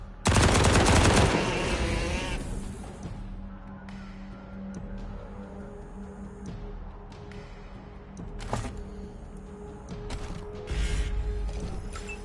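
Gunfire in the video game Wasteland 3: a rapid, loud burst of automatic shots up front, followed by scattered sharp clicks, mechanical clatter and a few isolated shot-like cracks over a low hum.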